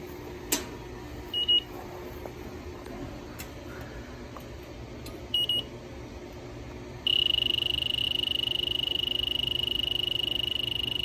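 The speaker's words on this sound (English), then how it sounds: "So it's already beeping" A refrigerant leak detector on an outdoor coil gives a few brief electronic beeps at irregular intervals, then a steady continuous high-pitched tone that holds to the end, over faint background hiss.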